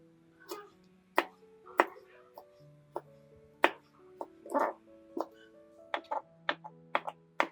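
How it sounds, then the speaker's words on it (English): A knife slicing through an aloe vera leaf and a ginger branch: a series of sharp, separate cuts and taps at an uneven pace, close and crisp against a quiet background with faint tonal hum. "Cut 1 aloe, vera leaf, and 1 ginger branch."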